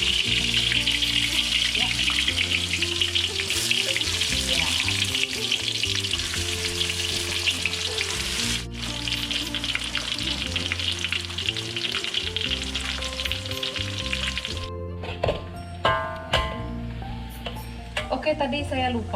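Onions hit hot oil and fry loudly in a pan while cooking daun ubi tumbuk, a dense continuous sizzle with clinks of a utensil against the pan; near the end the frying drops away and a voice briefly speaks.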